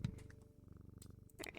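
A cat purrs steadily and close while being petted, a low continuous rumble with a brief higher rustle near the end.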